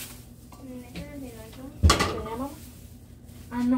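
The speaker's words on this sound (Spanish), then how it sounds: "Vamos a sacar la cacerola para freír eso." A metal saucepan clanks as it is pulled from a kitchen cupboard to fry chicken pieces, one sharp loud clatter amid quieter rattles, with someone talking over it.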